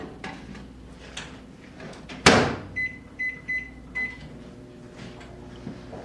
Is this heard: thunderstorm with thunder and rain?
no